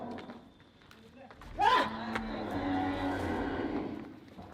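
Cattle at a goshala cow shelter in India, one loud moo rising briefly over a steady murmur of background noise and talk.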